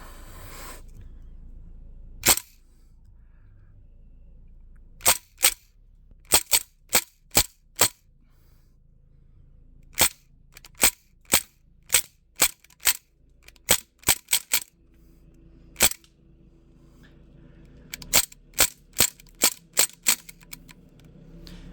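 A Crosman R1 4.5mm CO2 BB pistol fires a long string of sharp, close pops. The shots come in quick irregular bursts with short pauses between groups, over a quiet background.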